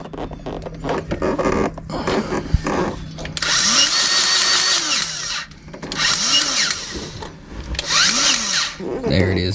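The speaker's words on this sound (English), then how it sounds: "we'll go ahead and hit this zerk point here at the axle, and just get some fresh grease up in there" A grease gun pumps fresh grease into the axle zerk fitting on homestead equipment, giving three long, creaky, rasping bursts of strokes, with voices talking throughout.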